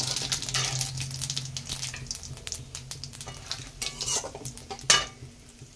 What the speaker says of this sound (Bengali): এই তেলে ফোড়ন দিয়ে দিলাম জিরা, একটা তেজপাতা আর একটা দারচিনি আর দুটি লবণ এলাচি।